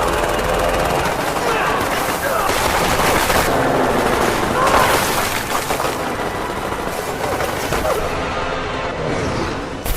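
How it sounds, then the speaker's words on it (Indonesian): Sustained, loud automatic gunfire from aircraft machine guns strafing troops in an American-versus-Chinese war film, dense rapid bursts with explosive cracks running continuously throughout. "sekarang digempur dengan senjata mesin pesawat"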